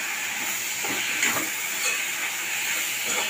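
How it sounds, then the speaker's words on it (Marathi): Chopped onion and tomato frying in a pan, a loud, continuous close hiss and sizzle with occasional stirring scrapes and no voices. "आता हे चांगलं परतून घेऊया आपण आधी, कांदा आणि टोमॅटो"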